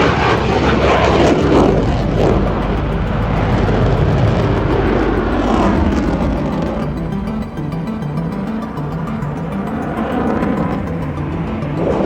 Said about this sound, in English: The sophisticated F-22 aero design, advanced flight controls, thrust vectoring, and high thrust-to-weight ratio provide the capability to outmaneuver all current